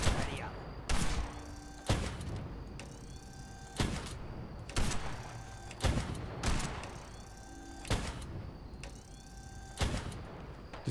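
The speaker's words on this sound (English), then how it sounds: "This gun just will not go through her carapace" Heavy gunfire in Fallout 4, aimed at a queen with a tough carapace, with loud single shots booming at roughly one-to-two-second intervals over a rumbling game background.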